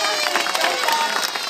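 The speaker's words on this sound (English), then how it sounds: "Massive clap if she gets this." Crowd at a sea lion show at Blackpool Zoo clapping and cheering after a trick, a brief, busy burst of hands and raised voices from many spectators.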